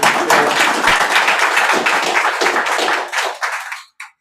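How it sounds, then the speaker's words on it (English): Audience at a World Maritime Day business breakfast applauding with dense, steady clapping that carries on for about four seconds before tapering off into silence. "one round of applause for you"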